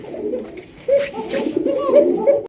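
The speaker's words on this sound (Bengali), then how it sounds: "দর্শক এখানে রয়েছে একজোড়া লাল টুকটুকা বোম্বাই কবুতর দেখতেই পাচ্ছেন" A pair of red Bombay domestic pigeons coo nearby in soft, throaty bursts, several short calls rising and falling while a voice speaks over them.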